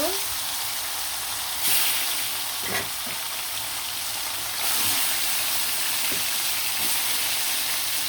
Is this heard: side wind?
no